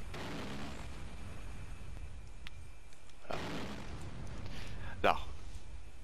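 The A-10C Warthog's cannon in the flight simulator DCS World fires one burst, heard as a broad roaring blast in the middle of the clip, followed by a sharp crack near the end, over a steady engine drone.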